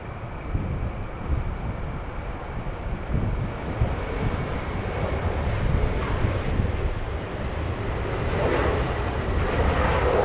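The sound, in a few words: WestJet airliner taking off from Los Angeles airport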